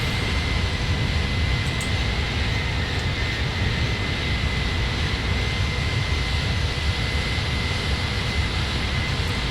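Airbus A310 jet at takeoff rotation in Microsoft Flight Simulator, a steady, loud, broadband engine roar with a constant whine, unbroken and close throughout.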